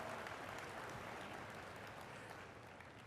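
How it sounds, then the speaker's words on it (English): Audience applause at a live business opportunity presentation in Miami, a dense, steady wash of clapping from a crowd that holds throughout and eases slightly toward the end. "You can clap, it's okay."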